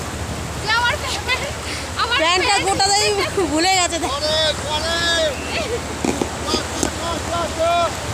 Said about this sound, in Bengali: এত সুন্দর সুন্দর ঢেউ যে বলার বিষয় নেই।